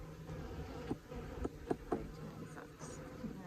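Honey bees buzz in a weak, declining hive after a bad beekeeping year, a soft, steady drone with a few brief louder passes close by, no talk.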